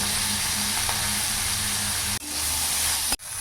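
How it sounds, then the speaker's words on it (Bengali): Prawns coated in salt and turmeric sizzle steadily in hot oil in a wok, a loud, continuous frying hiss with a couple of brief clatters from stirring, no voices. "কড়াইতে তেল দিয়ে দেবো তেল গরম হয়ে গেছে চিংড়ি মাছগুলো ভেজে নেবো"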